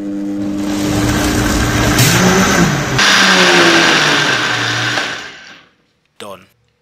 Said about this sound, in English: Next, just give that a rough blend.